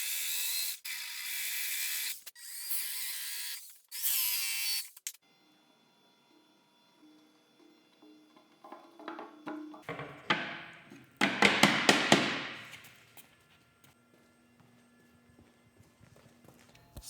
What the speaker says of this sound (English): now they need to be notched out in the corners to fit around the horizontal tubes. So I'll go ahead and notch them